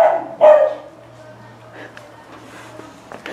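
A dog barks a few times up close, with sharp bursts near the start followed by quieter yips, as people talk nearby.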